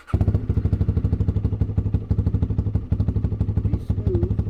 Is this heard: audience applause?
no